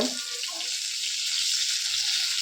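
Chana dal, a halved dried red chili and curry leaves fry in hot oil for a South Indian brinjal chutney tempering, making a steady, fairly loud hiss that follows a brief clatter at the start.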